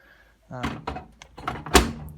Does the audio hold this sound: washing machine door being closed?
yes